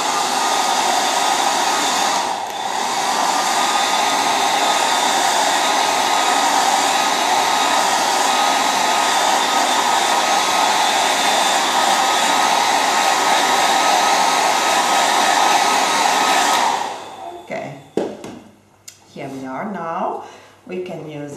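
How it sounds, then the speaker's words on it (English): Hair dryer blowing steadily for about seventeen seconds to speed-dry Stamperia Colorink crackle paint, loud and close with a constant whooshing hum, then switching off as a voice begins talking. "we speed up with the hair drying"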